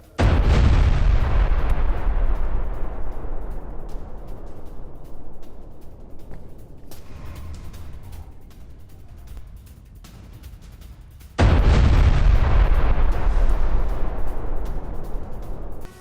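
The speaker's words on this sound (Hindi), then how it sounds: "ये देखिए कई बिल्डिंग्स को एक साथ धराशायी कर दिया गया, एक साथ इसे विस्फोट के जरिए उड़ा दिया गया।" Two massive blasts demolishing several buildings at once in South Lebanon, each a sudden deep boom followed by a long rumbling decay, the second arriving about eleven seconds after the first, loud and with no speech.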